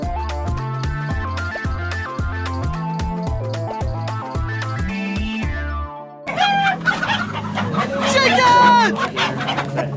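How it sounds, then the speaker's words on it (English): Loud music plays at a homecoming event, then cuts off, and clucking chicken calls follow among crowd chatter. "Chicken!"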